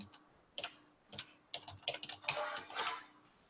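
Typing on a computer keyboard, a close run of quick irregular keystrokes clattering in bursts with brief pauses between them, no voices over it.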